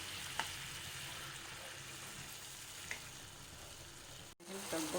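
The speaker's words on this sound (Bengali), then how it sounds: "এই যে দেখেন বন্ধুরা, কি সুন্দর টকবক টকবক করে এসছে।" Poppy and mustard paste with curd cooks in a pan for a pointed gourd dish, giving a faint, steady sizzling bubble, with a brief clunk near the end.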